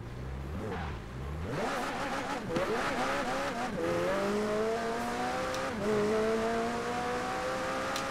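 Rear-wheel-drive car in Forza Horizon 4 accelerating hard on a highway, engine note climbing steadily through several gear changes with brief dips between shifts, loud and close with no talking.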